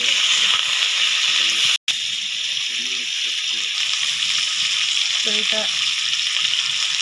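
Vegetables and salt stirred in a sizzling pan of Bengali sour fish curry, a steady bright frying hiss throughout with one brief cut, while someone talks over it.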